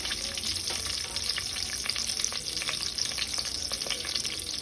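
Whole spices, including bay leaf, marathi moggu, star anise, cardamom and mace, fry in oil for a veg biryani gravy. The crackling sizzle is dense and constant, with frequent light stirring scrapes and no talking.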